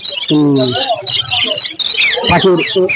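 Assorted caged birds chirp and tweet in quick, bright bursts at the Mirpur-1 bird market in Bangladesh. Nearby voices talk over the birdsong, and the whole scene stays loud and busy.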